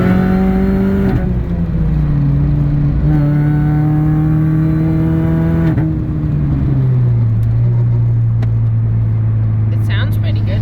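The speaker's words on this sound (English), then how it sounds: "we're out of our neighborhood and we're just cruising on a main road now" An R53 Mini with a swapped K24 engine cruises along a main road, heard from inside the cabin. A loud, steady engine drone shifts pitch slightly as speed changes, and voices come through now and then.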